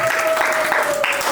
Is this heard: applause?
yes